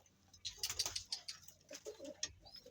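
Pigeons coo softly and repeatedly, with small ticking and fluttery bird sounds mixed in, fairly faint and close by.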